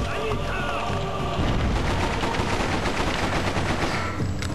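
Rapid automatic gunfire and a grenade blast erupt in the video game Freedom Fighters, a dense loud burst of shots that continues for several seconds with battle noise around it.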